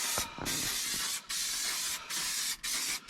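Glue sprayed from a can onto camper van carpet, several long loud hissing bursts separated by brief gaps, close to the listener with no talking.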